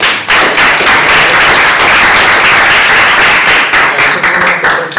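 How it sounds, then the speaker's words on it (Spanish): Audience applauding the speakers at the close of a panel on digital media and citizen participation, loud, dense, sustained clapping from many hands filling five seconds with no talk. "vamos a aplaudir a los expositores."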